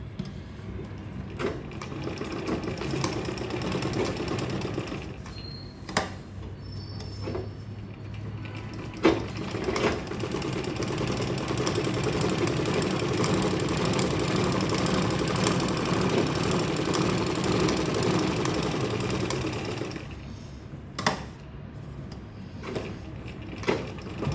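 Sewing machine stitching around the sides of a handbag, a close steady mechanical whirr of rapid stitching that runs for long stretches, with short pauses and occasional clicks and handling noises.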